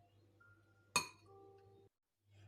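A spoon gives one sharp clink against a glass bowl while pitted cherries are stirred with wine or cognac. A single bright strike rises over a low steady hum and fades quickly into quiet.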